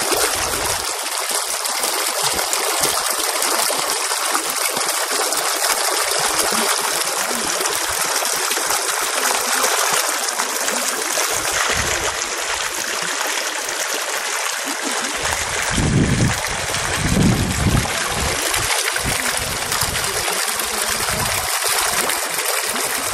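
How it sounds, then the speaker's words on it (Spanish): A small stream runs steadily through a guayabal near La Unión, Zaragoza, a continuous close wash of flowing water with a brief louder gush midway and no voices. "agua, miren cómo corre, todo limpio"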